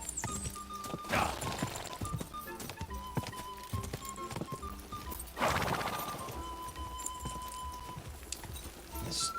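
Horse hooves clip-clopping at speed in the medieval video game Kingdom Come Deliverance 2, a steady run of hoofbeats with a couple of louder bursts and a brief whinny, alone with no talk.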